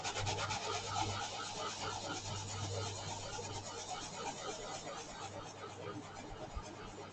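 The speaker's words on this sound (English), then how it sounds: "the great thing about sanding sponges is that you can do wet or dry sanding on them" A sanding sponge rubs steadily against a surface, a close, soft, continuous abrasive scrubbing that runs evenly throughout with no talk.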